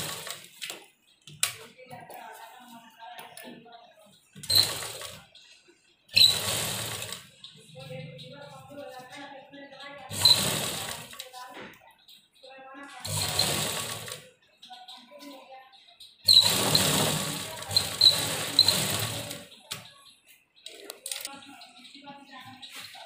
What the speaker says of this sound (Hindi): तो अभी हम इसके ऊपर एक अच्छी सिलाई लगाते हैं